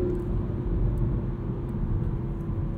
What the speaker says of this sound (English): It sounds like a Supra, even though there's a little bit of that noise being piped in from the speakers.